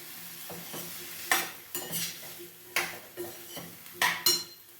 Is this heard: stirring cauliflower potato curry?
yes